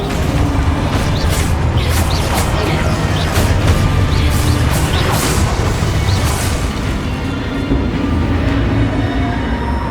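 Spell explosions and crashes from the video game Hogwarts Legacy burst in rapid succession over a dense, continuous rumble of combat, loud and busy throughout.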